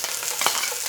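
Finely sliced onion frying over gentle to medium heat in a pan with garlic, a steady close hiss with one brief stir-like clatter midway and no talking.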